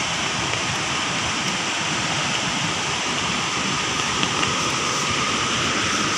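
Steady, loud roar of the rushing Baitarani River, a constant broadband wash that fills the whole clip without letting up.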